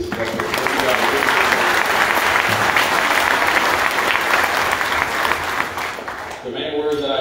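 Loud, sustained applause from a youth audience, dense clapping filling the room for several seconds before fading as a voice begins near the end.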